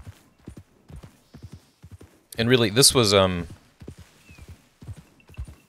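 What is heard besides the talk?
horse galloping in Red Dead Redemption 2 video game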